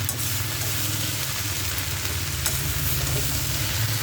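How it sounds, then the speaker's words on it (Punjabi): Okra sabzi fries in an iron kadai with a constant, loud sizzle while being gently stirred, with an occasional faint scrape of the spoon. "ਹੁਣ ਆਪਾਂ ਇਹਨਾਂ ਨੂੰ ਹਿਲਾ ਦੇਣਾ ਬਸ ਹੌਲੀ ਹੌਲੀ ਹਿਲਾ ਦਿਓ"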